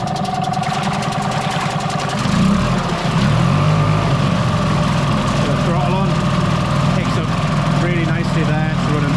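A Hangkai 6hp T6 two-stroke outboard running on its first start in water, a loud, steady buzzing drone that deepens and grows heavier partway through as it drops into gear, close up and continuous.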